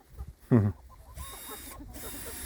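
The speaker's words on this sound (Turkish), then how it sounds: "şu anda 9 tane yumurtlayan tavuk var" A laying hen in a simple coop gives a short, loud cluck, followed by quieter, scattered clucking and faint farmyard noise in the background.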